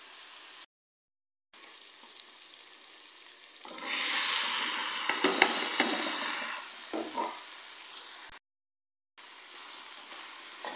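Fried okra tossed into hot masala sizzles loudly as it is stirred on high flame for a hotel-style bhindi fry, a steady hiss with spoon scrapes between quieter gaps.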